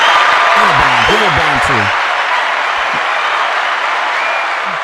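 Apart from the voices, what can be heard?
round of applause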